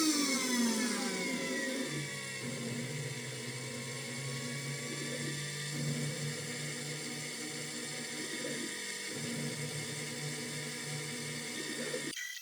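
High-pitched whirring spindle of a Carvera Air desktop CNC removing solder mask from a PCB, steady and close for about twelve seconds with gently shifting tones, then cutting off abruptly.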